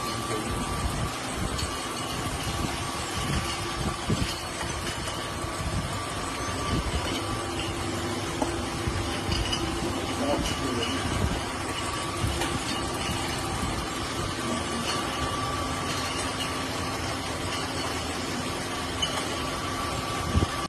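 A continuous mechanical rumble and clatter runs throughout, like industrial machinery working steadily, with no voices on top.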